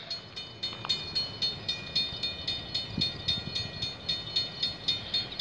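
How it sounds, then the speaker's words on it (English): A Canadian Pacific freight train approaching in Milton, Ontario, with rhythmic clickety-clack of wheels over rail joints and a steady metallic hum, growing and pulsing evenly at moderate distance. "Okay, we got a CP train coming."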